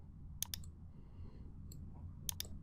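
Sharp mouse clicks in a quiet room, a quick double click near the start, a single faint click midway and another double click at the end, all without talk.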